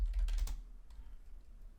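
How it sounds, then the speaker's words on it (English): Quick keystrokes on a computer keyboard in a short burst at the start, then fading into faint scattered taps against a low hum. "So if I type in PageSense"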